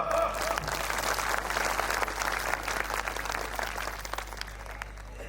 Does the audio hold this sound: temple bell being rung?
no